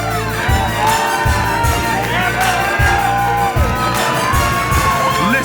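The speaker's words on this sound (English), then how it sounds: "Listen to that crowd." A race crowd cheers and whoops loudly and continuously at the finish of a desert off-road race, with shouts, yells and thumping bangs in the mix.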